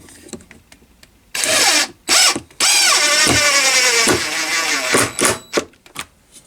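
Stanley FatMax impact driver sinking a screw into undrilled plywood: loud bursts of whirring and hammering, with a brief stop and restart before a long sustained drive that tapers off, followed by scattered clicks and knocks.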